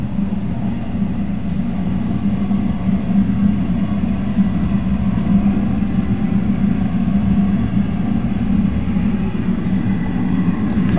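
A top-loading propane forge roars with its burners turned up, a loud steady rushing drone that holds unchanged throughout with no voices.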